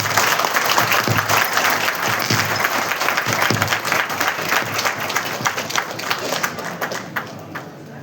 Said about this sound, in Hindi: कृपया जोरदार तालियों से स्वागत करेंगे।